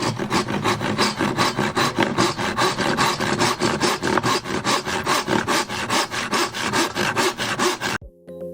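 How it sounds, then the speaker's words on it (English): A hand saw cuts diagonally through a piece of 2x2 wood held in a clamp, close and loud, in a steady rhythm of back-and-forth strokes that stops abruptly near the end. "so you should be able to saw through this in a matter of minutes"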